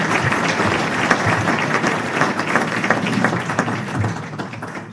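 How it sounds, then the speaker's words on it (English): An audience at a 2022 sports hall of fame induction ceremony in Medford claps steadily in a hall, a dense sustained round of applause without talk. "So please, a round of applause for yourself."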